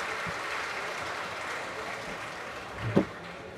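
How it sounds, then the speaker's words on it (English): A conference audience gives a round of applause at a final plenary session, steady clapping at moderate volume that ends in a single louder sharp knock near the close. "We'll give them a round of applause."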